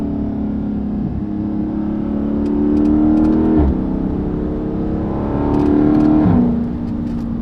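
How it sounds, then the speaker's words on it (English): A Dodge Charger Daytona 392 revs close by, its engine note swelling twice and dropping sharply as the 8-speed transmission shifts up, with faint clicks over the steady drone. "Even on shifting on this 8-speed, like, shifting up, like, just the noises"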